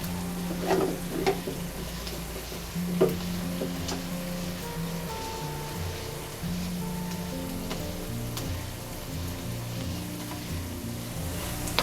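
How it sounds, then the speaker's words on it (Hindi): Cooked green peas for a samosa filling are pressed and mashed in a pan, with soft scraping, stirring and a light sizzle running steadily, punctuated by a few sharper knocks early on. "थोड़े से मटर को हमने इस तरह से दबाते हुए मैश कर लिया है"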